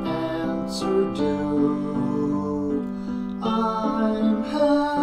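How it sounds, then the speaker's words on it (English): A classical piano rendition of the chorus of a love song plays alone as a slow, sustained melody with rich harmonic chords, steady and moderately loud throughout. "I'll play a clip of the chorus of how it's supposed to sound here because it is a classical"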